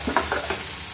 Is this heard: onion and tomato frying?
yes